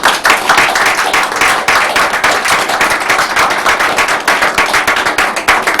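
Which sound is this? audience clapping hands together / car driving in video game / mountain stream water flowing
audience clapping hands together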